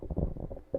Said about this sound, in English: I was trying to like muffle the cough. It wasn't happening. It was like a burp cough.